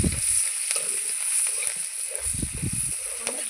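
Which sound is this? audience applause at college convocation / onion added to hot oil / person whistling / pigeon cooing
onion added to hot oil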